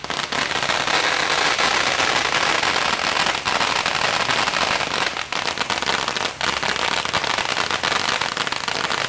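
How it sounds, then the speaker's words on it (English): A long string of firecrackers explodes at Penang's Hokkien Chinese New Year Pai Tee Kong festival, a loud, dense, unbroken rattle of rapid bangs that continues for the whole stretch with no voices. "that's the longest firecracker I have ever filmed"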